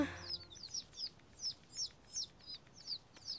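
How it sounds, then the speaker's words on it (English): Cartoon ducklings calling in a rapid series of short, bright, evenly spaced peeps, about eight in a row, clear and fairly close with no talk over them. "Nice quacking, Benjamin!"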